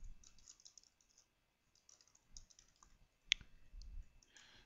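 Faint computer mouse and keyboard clicks in a quiet room, with one sharp click standing out near the end among scattered soft taps.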